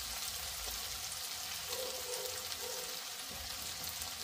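Spice masala fries in a pan for a drumstick curry, producing a continuous, fairly quiet sizzle with a light crackling texture, steady and unbroken.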